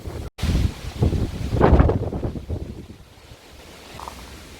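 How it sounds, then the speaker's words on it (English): Outdoors on a gusty day near the Chepstow channel, wind buffets the microphone in strong, uneven bursts that ease to a softer rush, with a low roar that could be surf in the background. "It's such a windy day"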